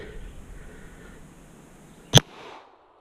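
A CZ Shadow 2 pistol fires a single sharp, loud shot outdoors after a quiet stretch of background hiss, with a brief echo trailing off.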